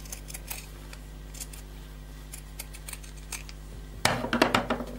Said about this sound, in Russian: ножницами делаем насечки по этому краешку с одной стороны и с другой